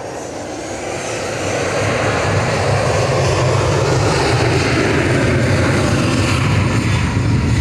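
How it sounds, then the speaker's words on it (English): A Ryanair jet departing Manchester Airport for Brussels Charleroi, its engine roar building over the first couple of seconds and then holding loud and steady, close by, with no talk. "Ryanair departing quickly to Brussels Charleroi"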